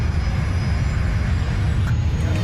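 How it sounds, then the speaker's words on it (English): Boeing 747 jet engine, the fourth engine relighting in flight, heard as a steady, loud broadband roar with a constant drone throughout. "as suddenly as it had stopped working, the 4th engine roars back to life"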